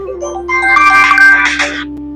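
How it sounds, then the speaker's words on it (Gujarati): An electronic phone ringtone plays a bright, tinkling melody for about a second and a half over a steady low hum, loud and close. "કોનો ફોન આવ્યો પાછો?"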